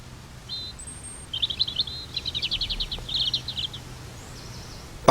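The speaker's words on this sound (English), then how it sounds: "only natives like blackbird and robin are singing" Birdsong in a British forest in early spring, where blackbird and robin sing. Thin, high twittering phrases come in short bursts over quiet woodland ambience, moderately close, with a sharp knock at the very end.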